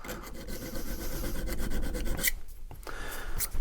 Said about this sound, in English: a lot of times you'll be cutting with one of these type of files